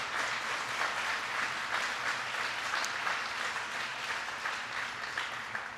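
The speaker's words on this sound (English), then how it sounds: "Please give them a big round of applause." An audience claps steadily for the governor and first lady, a continuous wash of applause that fades slightly toward the end.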